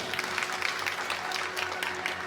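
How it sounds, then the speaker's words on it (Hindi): Audience applause at a Hindu religious discourse (katha) led by a pandit, a steady patter of many hands clapping at moderate distance, continuous throughout with a faint sustained tone underneath. "सब जने एक बार ताली बजा दो"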